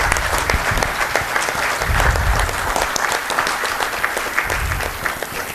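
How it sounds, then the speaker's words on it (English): Loud, sustained applause from a conference audience honouring a guest at the closing session of a national textile conference, many hands clapping densely and evenly throughout. "Can I have a round of applause, please?"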